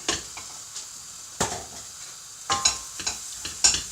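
Sliced red cabbage frying in a big frying pan, with a soft steady sizzle broken by clinks and scrapes from stirring, close and fairly quiet.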